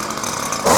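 A power hedge trimmer buzzes steadily while cutting the top of a hedge, a close, loud motor whine that swells louder near the end.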